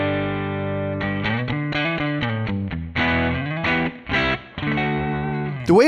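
An electric guitar played through a digital capture of a 1965 Princeton Reverb amp on a Kemper, with short melodic phrases and bends, slightly driven and clear, ending in a quick upward slide.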